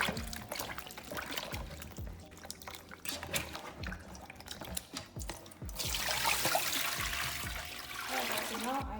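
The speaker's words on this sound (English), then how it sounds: "I'm going to wash the mushroom as well. I'm going to wash the onion as well." Tap water runs and splashes while mushrooms and onion are washed for fried rice with meat, an uneven trickle with handling knocks that swells into a steady louder stream near the end, under a person talking.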